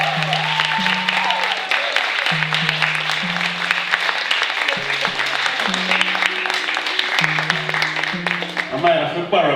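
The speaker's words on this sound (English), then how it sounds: "Give her a round of applause, please" A crowd applauds loudly and continuously, with a low sustained organ-like tone running underneath and voices mixed into the clapping.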